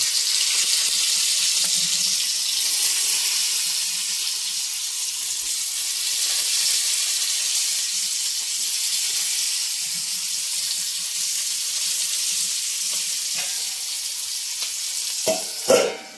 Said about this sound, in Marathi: भेंडा बघूया कशी फ्राय करते ते